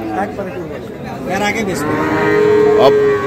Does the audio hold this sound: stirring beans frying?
no